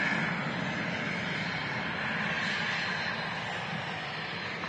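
Icelandair airliner heading out of Manchester Airport toward Reykjavik, a steady distant engine roar, broadband and even in level, with no talk over it.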